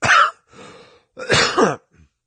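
A man coughs and clears his throat several times in short, close bursts, with brief pauses between them.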